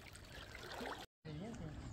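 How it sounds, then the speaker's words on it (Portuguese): Floodwater rushing through a small rapid during a river crossing in a flood, a steady close wash of water under a voice, with a brief dropout partway through. "Aí tem uma corredeirinha aqui, ó. Tá puxando pro lado."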